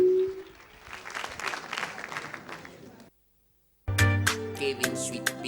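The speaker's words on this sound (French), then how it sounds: "On l'applaudit." Audience applause for a singer on a televised music talent competition, a broad steady wash of clapping for about three seconds that cuts off abruptly, followed by music starting.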